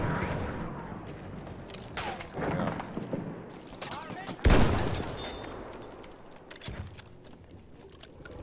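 Rifle and machine-gun fire in the World War I shooter Battlefield 1 during infantry combat, bursts of shots with a loud blast near the middle, mixed with battlefield noise and a talking voice.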